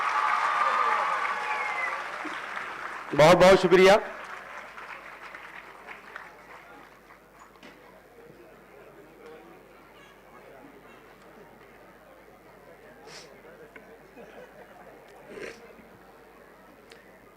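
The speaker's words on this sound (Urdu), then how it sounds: "زوردار تالیاں" Loud burst of applause at an award ceremony for a school in Aurangabad, a short dense clap lasting about a second, followed by someone speaking over faint crowd murmur.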